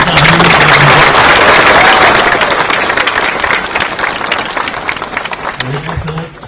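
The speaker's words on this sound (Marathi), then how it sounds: "त्याला खरंच जोरात टाळ्या वाजवून तुम्ही त्याचा अभिनंदन" Audience applause at the launch of the Botanical Garden in Nashik: loud, dense clapping from a crowd that holds strong for a few seconds, then gradually thins and softens, with a voice briefly over it.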